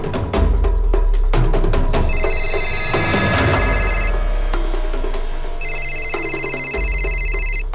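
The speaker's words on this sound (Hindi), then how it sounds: "किसका फोन है?" An electronic telephone ringtone trilling in two loud bursts, with clattering and thumping noises throughout.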